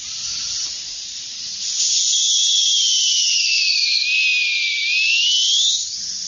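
A shrill, piercing multi-tone dog whistle holds a high tone, then sweeps down and back up over several seconds, sounding alone without any talk.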